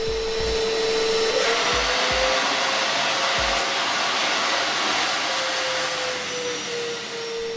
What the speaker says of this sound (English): Let's see how long the DeWalt wet dry vac takes to suck it up.